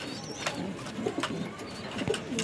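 Young pigeons coo softly in a loft against a steady background hiss, with a few short wingbeat-like bursts between the low murmuring calls.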